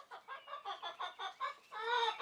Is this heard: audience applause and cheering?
no